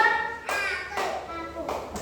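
Children in a classroom clap their hands in a few short bursts while kids' voices carry on around them.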